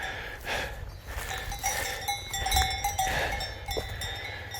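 Cows wearing cowbells in the Jura hills of Switzerland, with several bells clanking irregularly and fairly close, some animal snorts and breathing mixed in.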